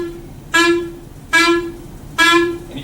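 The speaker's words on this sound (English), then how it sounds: "If I were to just use a whole bunch of puffs of air, it's going to sound like this." A clarinet sounds the same note in three separate, detached puffs of air, each one short, bright and evenly spaced, played close up with quiet pauses between.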